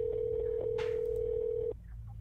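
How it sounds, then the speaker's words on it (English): A telephone ringback tone on a 911 emergency call, one steady electronic tone lasting under two seconds before it cuts off, over a low background hum. "911, just ringing."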